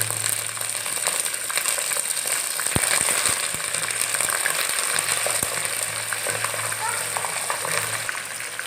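Curry leaves frying in hot oil in a clay pot while fish curry is made with green chillies and garlic, a loud continuous sizzle and crackle with scattered stirring knocks close by.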